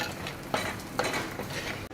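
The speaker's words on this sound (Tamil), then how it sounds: "நசுக்கி வச்சுருக்க சுண்டைக்காய் வச்சு எண்ணெயில் போட்டு பொரிச்சு எடுத்துருங்க" Turkey berries fry in hot coconut oil with a steady close sizzle, broken by a few sharp stirring scrapes of a utensil against the pan.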